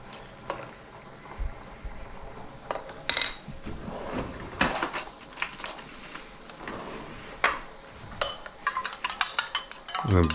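Egg lightly beaten with a little broth in a bowl, light irregular clinks and taps of utensil against the dish, close and fairly quiet, with a sharper clatter near the end.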